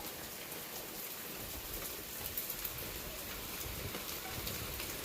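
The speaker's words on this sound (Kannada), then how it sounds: "ಇದ್ದಕ್ಕಿದ್ದಂಗೆ ಮಳೆನೇ ಜೋರಾಗೋಯ್ತು ಬಟ್ ಸ್ವಲ್ಪನೂ ಮೋಡನೇ ಇಲ್ಲ" Heavy rain pouring steadily over a terrace garden, a dense continuous hiss of drops hitting surfaces and leaves, loud and close with no break for the full length.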